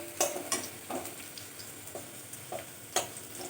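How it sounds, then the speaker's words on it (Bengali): Garlic and green chili sizzle in a hot pan while a spatula stirs them, landing sharp scraping clicks at irregular intervals over a soft, steady fry hiss. The sounds are close by and nobody speaks. "রসুনটা একটু ভালো করে ভেজে নিতে হবে"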